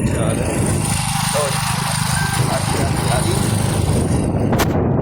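A motorcycle carries riders along a road toward a nearby wedding, its engine giving a steady, close, rough hum, with voices faintly present over the noise.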